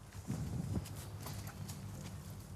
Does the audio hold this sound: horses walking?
yes